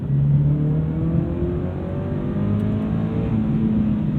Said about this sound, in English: as you rev this thing out, it's so much smoother